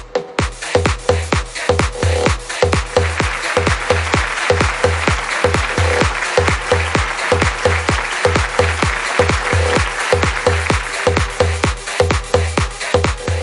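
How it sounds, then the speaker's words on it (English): Audience at an awards ceremony claps in a steady rhythmic beat, a rapid even pulse of hand claps sustained near and loud over a faint musical backing tone throughout. "Let's have a round of applause for Omkar Realtors and Developers."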